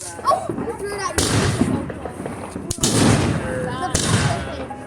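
A Fourth of July firework exploding outdoors, three or four sharp, loud booming blasts spaced about a second apart, each trailing off in a crackling rumble, with people talking and reacting between the bangs.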